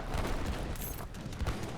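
Heavy cannons boom in a late-game real-time strategy battle, dense overlapping blasts and rumbling impacts rolling continuously and loudly through the scene.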